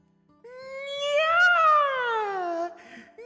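A human voice imitates a cat with a single drawn-out meow, rising then falling in pitch, loud and close over a quiet background.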